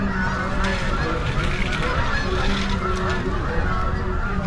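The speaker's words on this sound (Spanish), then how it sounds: "miren los patos cómo vuelan por encima de este templo" Ducks honk repeatedly as they fly over a large Hindu temple in New Jersey, their calls mixed into a dense, steady outdoor wash of noise.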